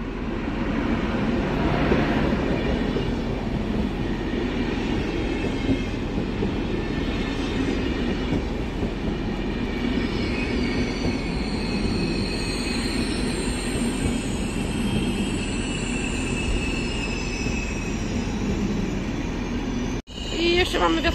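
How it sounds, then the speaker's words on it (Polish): An Intercity train hauled by an EU160 Gryfin electric locomotive rolls through Bydgoszcz Główna station, a loud continuous rumble of passing wagons with rhythmic wheel clatter and high wheel squeal, close by, with voices in the background. "A to lokomotywa EU160-030."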